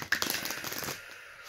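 A quick riffle of oversized cards being shuffled by hand, a close, papery burst of rapid flicks that fades out after about a second.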